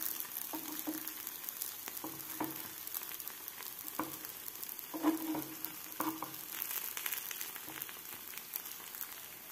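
Dosa-batter ponganalu fry in a covered pan, giving a soft steady sizzle with scattered small pops and crackles throughout, faint and without talk.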